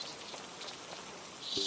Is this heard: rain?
yes